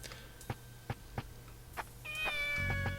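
A cat meows in the video game Shenmue, four or five short, clear meows spaced about half a second apart, followed by a sustained tonal game chime and low hum at the end.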